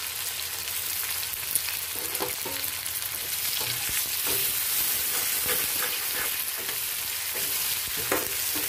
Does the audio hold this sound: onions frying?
yes